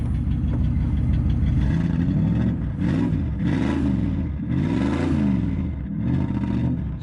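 An old 1973 Dodge D100 pickup engine with an 800 CFM carburetor runs steadily with a rough, uneven idle, the revs swelling and dipping in several surges throughout, on its first start in ten years.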